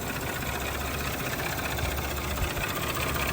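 A 2019 Audi A6 S-line TFSI engine idles steadily, a continuous low mechanical hum with a faint ticking texture, close and even throughout with no talk.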